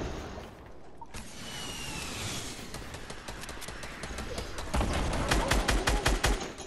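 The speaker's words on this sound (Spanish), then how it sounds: "Sigue disparando, que no se sabe." Continuous gunfire from an old recording: steady rapid shots that build into dense, loud bursts of automatic fire toward the end, with a sharp whoosh early on.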